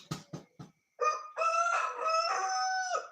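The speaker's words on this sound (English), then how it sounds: "That's my rooster." A rooster crows in a long, loud, drawn-out call after a few short clucks, with no one talking over it.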